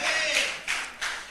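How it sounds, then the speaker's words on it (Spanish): A church congregation applauds in praise, giving a short, close burst of clapping that swells and dips in a few uneven waves. "Denle un fuerte aplauso a la gloria de Cristo."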